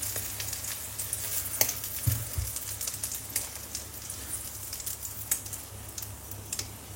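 Eggs frying in a pan over a gas stove, a soft continuous crackle and spatter with a low steady hum beneath and a brief clunk of the pan, no talk.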